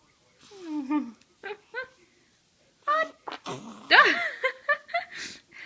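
A baby strains as if about to sneeze and lets out a short toot instead, a brief squeaky burst amid small grunts and baby noises, with an adult talking quietly nearby in the pauses.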